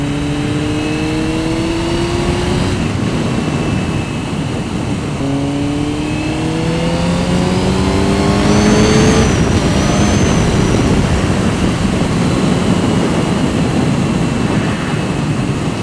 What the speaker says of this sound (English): having the four cylinders is just, it's so smooth, it revs so smoothly